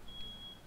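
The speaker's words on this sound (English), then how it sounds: "His fire alarm sounds like my microwave." A fire alarm in a Getting Over It game stream gives a single steady high electronic beep, held for about half a second over a low background hum.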